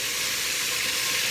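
Masala sizzles with ginger and garlic in a hot pan, a dense, loud, continuous hiss with faint stirring underneath.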